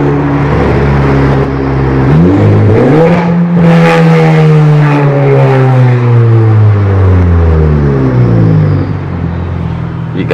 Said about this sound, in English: And then just listen to the turbo.